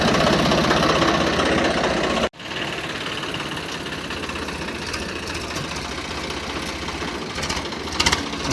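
A Swaraj 855 FE tractor engine runs steadily at idle, a loud continuous low rumble that cuts out briefly, then resumes with a slightly lighter, knocking chug, with no speech.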